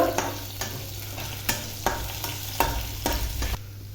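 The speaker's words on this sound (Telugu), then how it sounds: "కొంచెం కరివేపాకు వేసుకోవాలి." Curry leaves dropped into hot oil in a pan while making spicy rice, giving a steady close sizzle broken by several scraping stirs of a spoon.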